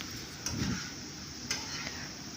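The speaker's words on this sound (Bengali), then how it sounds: "ভালো করে মাখিয়ে নেব মাছটার সাথে মশলাটা এপিট ওপিট করে" Fried prawns being stirred into masala in a pan for prawn malaikari, with a soft scraping stir and a couple of brief utensil clicks over a low continuous sizzle, close and fairly quiet.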